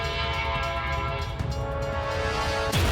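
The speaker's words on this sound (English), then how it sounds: "There goes the train." A train horn blares loudly and continuously, close by, over the rumble of a passing train, ending with a sharp change in the noise.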